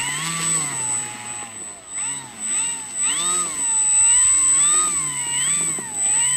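FMS Ranger Plus 1800mm RC model airplane taking off from a dry runway at sunrise, its electric motor whining and rising and falling in pitch as it passes nearby, with people talking now and then.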